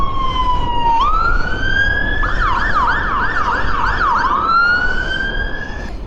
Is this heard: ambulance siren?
yes